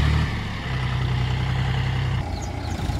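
A tractor engine, belonging to a village farmer, runs steadily as it hauls a load of soil, a loud low rumble that holds for about two seconds and then drops away, leaving quieter background noise.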